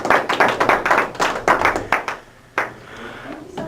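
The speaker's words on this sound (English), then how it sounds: "applause" A round of applause for a guest speaker at an office talk in Fort Collins: a small group claps in dense bursts for about two seconds, then it thins out and fades to a few scattered claps.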